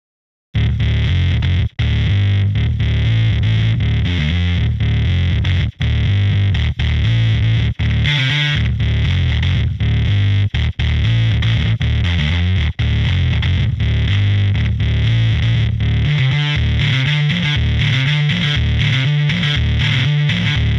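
A bass synth runs through a distortion plugin, producing a loud, continuous, gritty tone that plays steadily for about twenty seconds with brief note breaks and shifting, buzzy harmonics.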